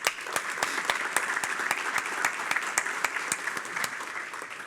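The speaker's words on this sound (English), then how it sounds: "let's give all of our sponsors a big round of applause" Sustained, full applause from a conference audience at the Great Miami Riverway Summit, honouring the sponsors; dense clapping holds steady for several seconds with sharp individual claps standing out.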